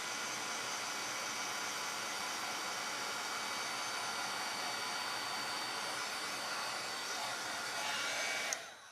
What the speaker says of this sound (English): Let's heat up our heat tool and melt this powder.